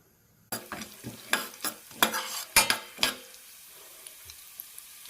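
Urad dal and chana dal frying slowly over low heat, with a run of loud, irregular scraping stirs against the pan over a soft sizzle, then a quieter stretch of gentle frying.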